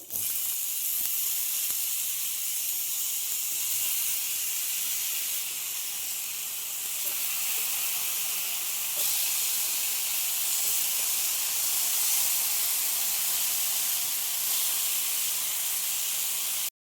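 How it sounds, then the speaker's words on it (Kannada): Pineapple pieces hiss and sizzle on a hot tawa, a steady, bright frying hiss that runs without a break, close and fairly loud, with no talking over it. "ಈ ಕಾದಿರೋ ತವಾ ಮೇಲೆ ಕಟ್ ಮಾಡಿಕೊಂಡು ರೆಡಿ ಮಾಡ್ಕೊಂಡಿದ್ವಲ್ಲ, ಅದು ಪೈನಾಪಲ್ ಹಾಕ್ಕೊಳ್ತಾ ಇದ್ದೀನಿ"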